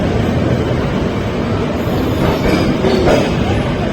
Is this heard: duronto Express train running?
yes